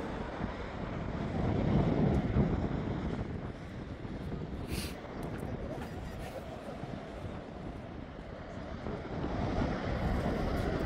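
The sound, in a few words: wind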